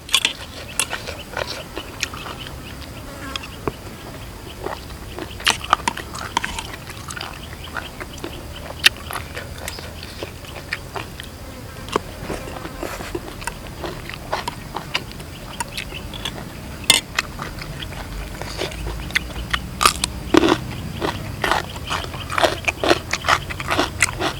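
Close, crisp crunching and chewing of a spicy salad with apple snail meat comes in irregular bursts of sharp clicks and bites, with a soft outdoor forest background.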